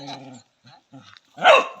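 Dogs bark and snarl in a short scuffle, a few clipped yelps followed by a louder rough growling burst close by.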